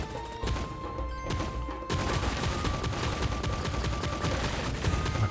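Laser scorpions firing in the Monsters & Monocles video game, dense rapid volleys of shots that run nearly continuously and pile up into a loud clatter.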